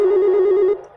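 Telephone ringing in a ghost-hunting video game set in a small house, a steady electronic ring sustained close and loud for most of the second before cutting off abruptly.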